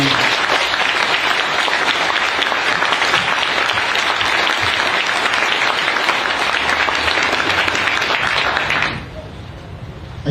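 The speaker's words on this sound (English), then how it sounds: "how about a big round of applause for those Marines?" Sustained, dense applause from a large audience honors Marines at a change of command ceremony, steady and loud for about nine seconds before dropping away sharply.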